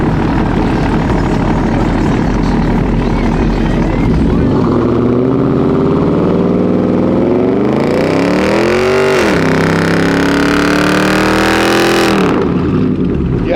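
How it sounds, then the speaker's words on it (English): A squatted, cateye-swapped Chevy Tahoe at a truck meet does a burnout, its engine loud and close as it revs and climbs in long sweeping pulls, with people talking and shouting over it. "Do a burnout!"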